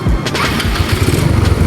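A Mio Sporty scooter, recently fitted with a new 28 carburetor, fires up close by and settles into a loud, steady buzzing idle right away.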